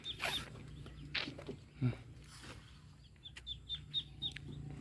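Ducks at a rural house-building site call outdoors, giving a series of short, faint quacks and squawks at irregular intervals over a low background hum.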